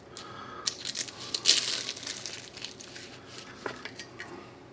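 A knife slices open a chestnut, apple, mushroom and fig tart, making close, crunchy crackling and crumbling as the crust breaks, loudest in one burst and then easing into softer crumbly sounds.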